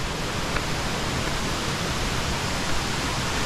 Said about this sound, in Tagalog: Nakakit namin ni Sir Anton ang pinaka waterfalls